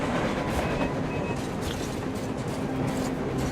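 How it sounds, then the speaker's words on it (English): Train rolling past in the video game Metro Exodus, a steady, dense rumble of wheels and carriages with faint metallic squeals and clatter, heard on its own without speech. "Looks like they're chasing that train too."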